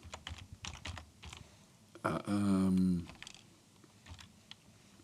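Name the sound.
typing on a computer keyboard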